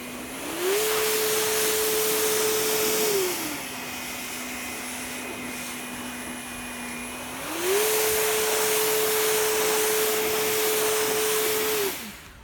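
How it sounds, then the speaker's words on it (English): An EGO electric blower runs in regular mode, a loud close whine that ramps up, holds, drops to a lower hum, then ramps up again before cutting off, with no talking. "Here we have the Ego electric trimmer blower."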